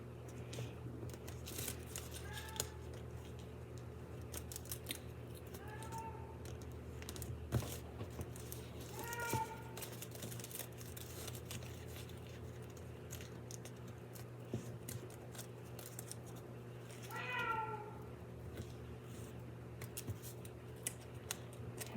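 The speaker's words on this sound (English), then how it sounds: "I'm sure you might be able to hear that meowing in the background there." A cat meows faintly several times in the background of a room during origami folding, short rising cries spaced seconds apart over a steady low hum.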